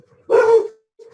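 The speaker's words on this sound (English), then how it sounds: "I'm sorry, my dogs" A single loud, close dog bark, sharp and full, cuts in alone with a faint trace of another low sound just after.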